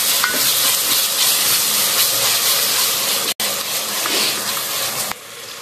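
Onions sauté with ginger garlic paste in a pan, a loud, dense, continuous sizzle close by, with stirring scrapes and one abrupt brief cut-out near the end; no one speaks.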